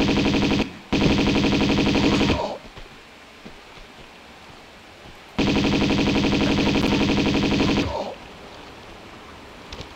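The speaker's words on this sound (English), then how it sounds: "Okay, I'm gonna Uzi these guys." An Uzi fires in Tomb Raider 2 on the offshore rig level: two long, loud bursts of rapid video-game automatic gunfire, each running about one and a half to two and a half seconds, with a quiet gap between them.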